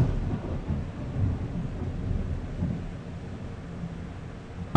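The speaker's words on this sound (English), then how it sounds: "That was a lovely piece of thunder." Thunder during a storm, a long low rumble rolling for several seconds with a faint rain-like hiss and no talk.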